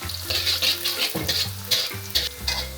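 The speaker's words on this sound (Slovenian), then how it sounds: "bomo zelo na hitro karamelizirali korenček. Čist malo ga bomo pocvrli" Carrots frying briefly in hot oil to caramelize, a close, steady sizzle with stirring scrapes, alone without speech, under light background music.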